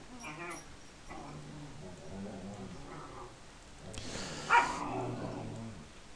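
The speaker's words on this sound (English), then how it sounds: "I'm sure you're enjoying hearing my dogs have a little play in the background" Dogs playing indoors in the background: faint scuffling, soft growls and yips, with one louder bark-like burst near the end.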